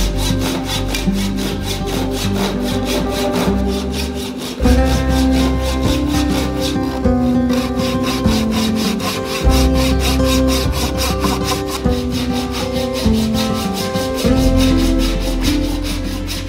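Steady hand sawing through a piece of wood for a falchion sword handle, with rhythmic back-and-forth strokes close up and loud, pausing briefly a few times, with no talking.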